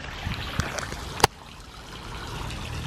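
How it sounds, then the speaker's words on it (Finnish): Outdoor fountain in an office building's side yard, a steady low trickle and splash of water throughout with a sharp click partway through, moderately close and with no talking. "Täällä on myös suihkulähde."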